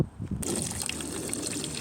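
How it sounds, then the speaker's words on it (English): A garden hose gushes water into a pond standing in for a waterfall, a sudden dense splashing rush that starts after a brief quiet moment and continues steadily. "The hose is going to be our version of the waterfall until we get a man-made one"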